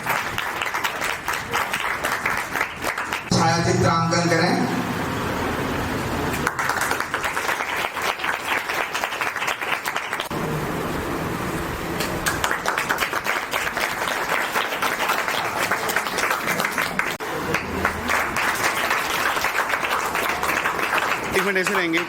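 Sustained applause from students and teachers at a school Independence Day celebration in India, a steady dense clapping wash running for about twenty seconds, loud and continuous with voices mixed in.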